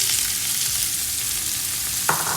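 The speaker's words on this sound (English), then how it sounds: "now I'm going to add in my onions" Onions hit hot olive oil in a pot where oxtail has browned for a Cuban-style stew, giving a loud, steady sizzle with a brief clatter of stirring near the end.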